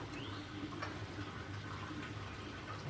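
Water runs steadily from an automatic vertical autovalve filling an aquarium, a constant soft trickling wash that stays even and fairly quiet throughout, with no talking.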